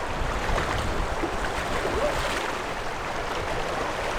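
A refreshing river in Nepal flows steadily nearby, a broad, continuous rushing wash of water with no voices over it.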